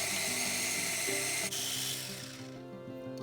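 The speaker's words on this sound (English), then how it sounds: "Grind it for 3 to 5 minutes until it becomes a smooth paste." A mixer grinder blends garlic and ginger into a paste with a loud, continuous whirring whine whose pitch shifts slightly as the blades work through the mixture.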